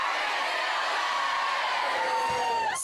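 Schoolgirls and students in green and gold cheer and whoop loudly for the Matildas, the Australian women's football team, a sustained crowd roar with high shouts and a sharp squeal near the end.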